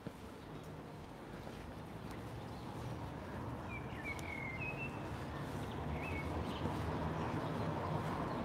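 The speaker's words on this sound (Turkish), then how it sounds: "Kuş seslerini duyuyor musunuz?" Birds sing on an outdoor street in Montmartre, Paris, with a few thin, high chirps and whistles standing out over a steady rumble of traffic and city noise.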